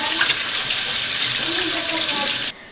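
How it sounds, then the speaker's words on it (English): A kitchen tap runs loudly and steadily as hands are washed beneath it, a close, continuous splash that stops abruptly near the end. "let's wash our hands"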